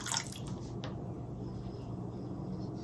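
Water pours into a pot while making turkey broth for pressure canning, a soft continuous splashing trickle, fairly quiet and close, with a brighter splash at the start.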